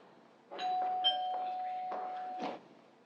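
A doorbell on a theatre stage rings once as a sustained electric tone lasting about two seconds, faint and slightly distant, with a few soft knocks and stage noises around it.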